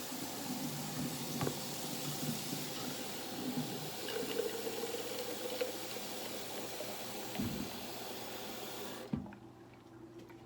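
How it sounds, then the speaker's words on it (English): Cold water running from a kitchen tap in an Oregon home, a steady rushing stream with shifting pitch as a container fills, a couple of thuds, then cutting off near the end. "I get cold tap water"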